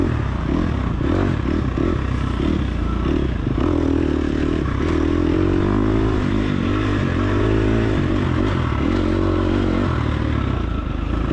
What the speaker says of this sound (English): there's like a 4-stroke behind me. I can definitely hear him right behind me.